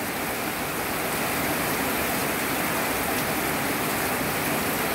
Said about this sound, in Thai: ฝนตกแต่3โมงมี5โมงกว่าแล้วยังบ่หยุดอยู